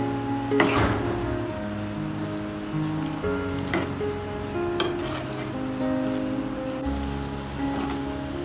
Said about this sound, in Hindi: 2 मिनट के लिए हम इसको फ्राई करेंगे